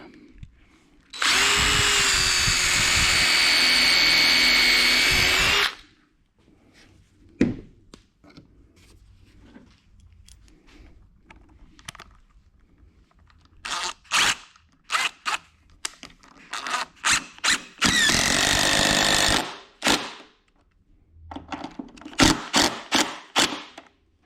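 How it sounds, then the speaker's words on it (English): Power drill driving lag screws into a homemade wooden shooting table, two loud sustained whirring runs a few seconds each, separated by clattering handling noises, close by with no talk. "So I can go ahead and start bolting this one on. And when I say bolts, I mean lag screws."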